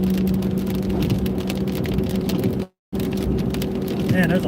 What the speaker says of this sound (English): Be a lot of hail.